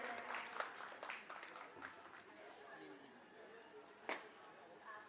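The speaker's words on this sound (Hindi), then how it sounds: "प्लीज आप सभी लोग तालियों से स्वागत करें" An audience at a school inauguration ceremony claps to welcome a guest, a soft, steady patter of applause with light crowd chatter and sharper isolated claps, heard at a distance with voices mixed in.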